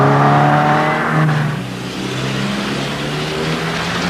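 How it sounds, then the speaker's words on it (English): A car accelerates hard after an emergency brake bootleg turn, its engine note rising loud and close with a steady roar that continues through to the end. "release the emergency brake and accelerate"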